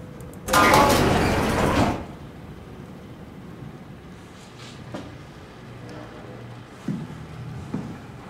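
Sliding doors glide open in the sci-fi game SOMA, a loud mechanical whoosh lasting about a second and a half, followed by quiet ambience with a few faint clunks and thuds.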